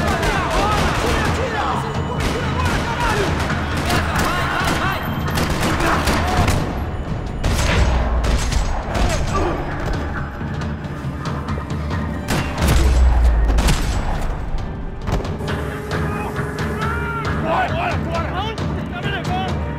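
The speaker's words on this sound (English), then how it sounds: "Another parking lot rattling with gunfire." Sustained gunfire rattles through a parking lot in Max Payne 3, with dense volleys of shots, booming hits and bursts of automatic fire as someone speaks over the action.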